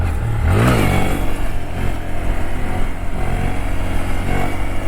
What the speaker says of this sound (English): one last wheelie for this video